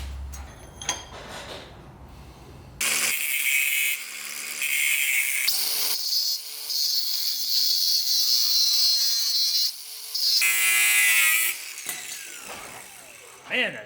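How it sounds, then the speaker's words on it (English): A fitting being welded onto an LS-swapped Mazda FC RX7: long steady bursts of harsh, buzzing crackle broken by short pauses. Loud and close, after a brief stretch of other workshop noise at the start. "So we'll just weld it on."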